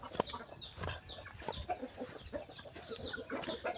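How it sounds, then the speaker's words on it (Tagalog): Chicks and fowl in a farmyard pen at feeding time, a busy overlapping mix of chirps and clucks with occasional louder calls, close and continuous, no talking. "Yung mga sisiw ay maingay na."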